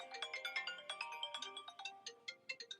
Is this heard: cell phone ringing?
yes